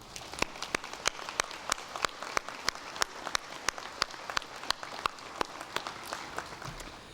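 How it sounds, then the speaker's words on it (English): A commencement audience at a December 2010 ceremony for the College of LAE and College of EMS applauds the honorees, with sharp, distinct claps rattling through a large room. "Please give them a round of applause."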